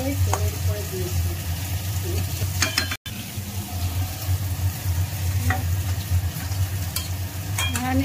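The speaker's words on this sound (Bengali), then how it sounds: "আলু ফুলকপি ভালো করে ভাজি করছি" Potatoes and cauliflower frying in oil, giving a continuous close sizzle with occasional utensil clinks and stirring scrapes throughout, and no speech heard.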